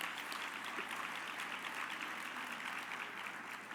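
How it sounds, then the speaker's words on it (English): Steady, soft applause from a luncheon audience at a Women's Hall of Fame event honoring a corporate systems manager, an even wash of clapping that holds for several seconds without a break. "give her a round of applause"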